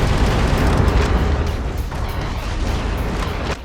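Missile explosions in the mech game Metal Wolf Chaos XD, a continuous loud rumbling roar of blasts filling the whole stretch with little pause, no voices.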